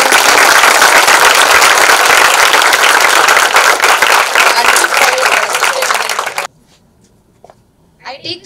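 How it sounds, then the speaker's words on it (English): An audience at a finance and tax career talk applauds a guest speaker, with loud, dense clapping for about six seconds before it stops abruptly, followed by a quiet room with faint stray sounds. "We can give a very big applause to him."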